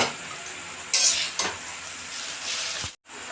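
Soaked chow mein noodles and eggs stir-fried in a hot pan, with a steady close sizzle broken by scraping and clattering from the spatula, then a brief cut to silence before the frying resumes.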